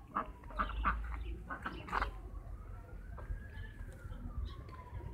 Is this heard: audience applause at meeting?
no